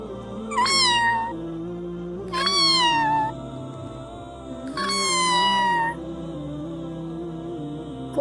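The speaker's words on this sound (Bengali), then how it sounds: "মিকি কাছে গেল আর ম্যাও ম্যাও করে ডাকলো" An animated cat in a cartoon meows three times, each a clear, drawn-out, rising-and-falling call separated by short pauses over a soft steady background tone.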